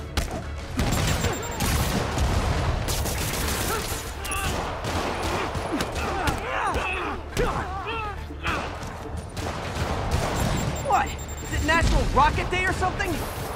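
Rapid rocket barrages and explosions from Marvel's Spider-Man Remastered on PC, played as dense continuous loud bursts throughout, with game character voices talking over the action.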